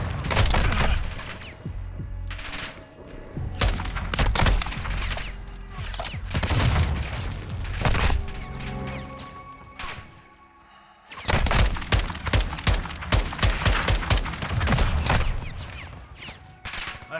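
Rapid bursts of gunfire in Call of Duty: Modern Warfare 2 crackle in dense volleys, loud and close, with booming impacts and a short lull midway before the shooting resumes.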